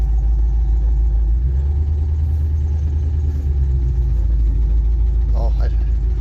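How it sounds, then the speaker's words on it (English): The motor of an old car pulled from a barn after more than ten years of sitting runs with a steady, loud low rumble, a brief higher squeal or whine rising near the end. "Oh, the motor just made a new sound."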